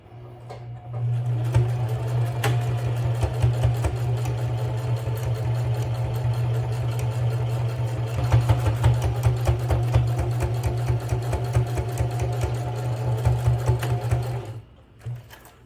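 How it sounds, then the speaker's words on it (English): A sewing machine top-stitches a travel bag, running steadily for about fourteen seconds, a fast rhythmic whir and clatter with a low motor drone, close by, then stops. "let's go to the sewing machine and start to top stitch here across."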